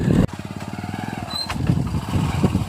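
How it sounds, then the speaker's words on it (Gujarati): A motorcycle engine runs close by with a steady, rapid low-pitched putter that continues throughout, rising slightly in loudness toward the end. "બાઈક તો ઊભું રાખવા દે."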